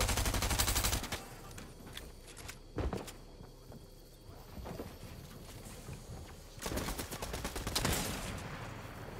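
Bursts of rapid gunfire in a shooter video game match, several sharp volleys separated by quieter stretches with faint footstep-like clatter between them, no talking.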